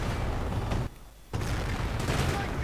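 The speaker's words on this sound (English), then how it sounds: "Mortar rounds landing." Mortar rounds land amid continuous heavy gunfire and artillery in a World War II video game battle, a dense roar of explosions broken by a brief drop in level before the barrage resumes.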